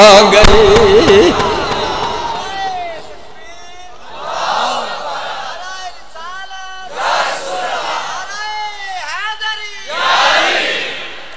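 A crowd at an Urdu religious gathering about Husayn roars slogans in loud collective bursts, swelling and fading between chants, with a lead voice calling out first.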